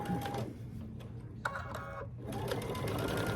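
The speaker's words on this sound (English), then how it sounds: "So let's go back to this stitching now. We'll stitch it." Domestic sewing machine stitching binding onto a quilt, a close, steady mechanical whir with a brief pause and small clicks midway before it runs on again.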